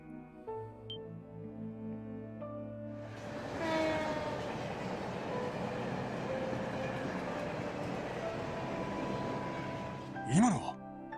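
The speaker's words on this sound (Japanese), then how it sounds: "今のは 多分共和国方面の最終列車ってところじゃない？" The last train passes at night in the video game Trails from Zero: after a quiet stretch with soft music, a rumbling, rattling train sound swells in and holds steady, and a short horn blast sounds near the end.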